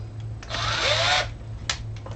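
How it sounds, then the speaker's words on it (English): A power drill whirs up for a short burst into a steel guitar pedal enclosure, its pitch shifting as it spins, then stops; a couple of clicks follow. "Helps if the drill is engaged in the right direction."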